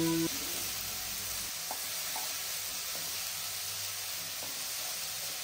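Boiled noodles and vegetables frying with onions in a pan give off a steady, close sizzling hiss, with a few soft stirring scrapes now and then.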